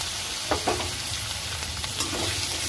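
Cut potatoes frying in oil with whole garam masala spices, a dense close sizzle with a few spatula scrapes and taps from stirring.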